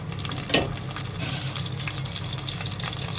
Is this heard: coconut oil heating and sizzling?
yes